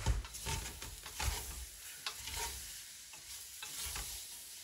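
Onions, carrots and lardons sizzle in a pot while being stirred for a beef bourguignon, with repeated scraping strokes over a steady frying crackle, close and fairly quiet.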